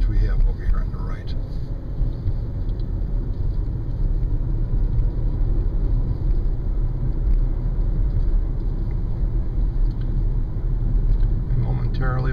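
A car descends Lookout Mountain toward switchbacks with the brakes held on, giving a steady low engine and road rumble close by throughout, with a voice talking over it.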